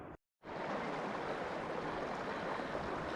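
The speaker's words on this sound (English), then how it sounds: "You can see the waterfalls coming down into the lake." Waterfalls pour into Avalanche Lake in Glacier National Park, a steady, dense rushing of falling water that holds evenly after a brief silent gap at the start, with no voices.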